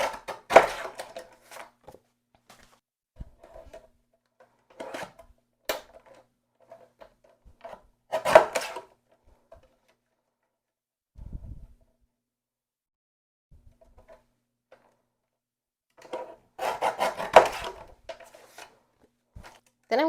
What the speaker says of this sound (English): And I'm cutting them in 3/4 inch sections.